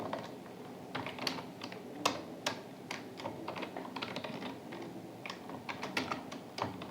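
Computer keyboard typing while a GST bill is entered in Excel: steady, irregular key clicks close by, fairly quiet, with no talk over them.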